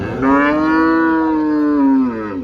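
A single loud, drawn-out cow moo at a cattle market, close by, lasting a couple of seconds with a deep steady tone.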